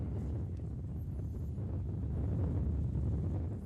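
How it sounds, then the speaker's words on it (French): Storm wind gusts over the jetty at Dieppe, a steady low rumbling roar of wind buffeting the microphone, broad and unbroken. "Il y a le vent qui se jette sur la jetée là"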